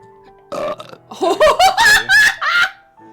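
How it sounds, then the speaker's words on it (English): A loud, drawn-out human burp rises and warbles through several voiced pulses, close and clear, standing alone after a short opening sound, with no talk over it. "Dude, that was like a fucking burp and a half."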